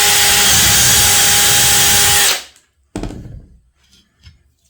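Power drill boring dowel holes into wood through a dowel drill jig, a loud continuous whir for about two seconds that cuts off, followed by a brief clatter and faint handling noises.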